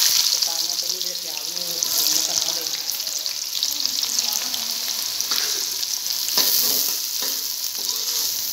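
Onions fry in ghee in a kadhai with a loud, continuous hiss and crackle close by. Occasional stirring clatters sound over the sizzle, and faint talk can be heard beneath it.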